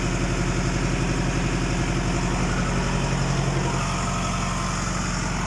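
A John Deere tractor runs a PTO-driven 55 kVA generator at a low throttle setting, with a close, steady diesel drone and a rhythmic mechanical throb that does not change.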